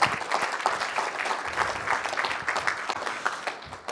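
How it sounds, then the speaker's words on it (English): Audience applause at a charity panel event, a dense, steady wash of many hands clapping that holds at an even level throughout and trails off slightly at the end. "So give Donna Higgins a big round of applause."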